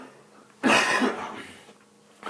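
A single harsh cough bursts out close by, followed by a raspy breath, against an otherwise quiet room.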